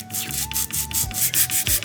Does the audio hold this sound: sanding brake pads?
yes